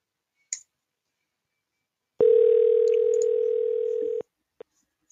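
A steady telephone dial tone holds for about two seconds after a soft click, then cuts off, followed by a couple of faint clicks.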